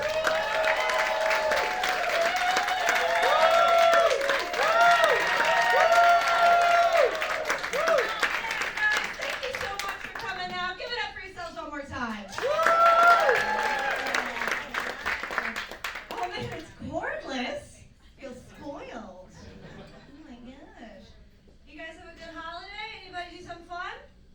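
A live audience at a set by a comedian breaks into loud applause and cheering, sustained clapping with whoops that fades out, followed by a voice speaking over scattered room noise.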